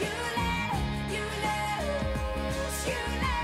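A song plays as a full band recording, with sung vocal lines over steady drums, bass and guitars, continuous and moderately loud throughout.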